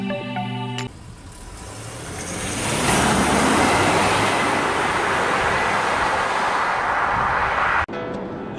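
Interior cabin noise of a Jaguar XF S Sportbrake driving on the road, a broad steady roar of road and engine noise that swells as the car picks up speed, with no talk.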